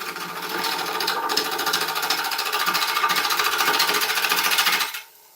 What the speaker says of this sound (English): We just want the lathe to spin, okay, and the tool to cut it